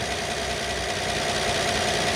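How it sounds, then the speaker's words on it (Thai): A Rolls-Royce Cullinan Black Badge V12 idles with a steady, smooth broadband hum that stays even in level with no voices. "เครื่องยนต์ติดอยู่นะฮะตอนนี้นะครับ"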